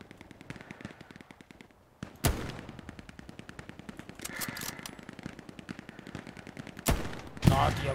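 Rapid gunfire in the video game Hell Let Loose, sustained automatic bursts with a steady mechanical rhythm, broken by a few louder sharp blasts near the start and end.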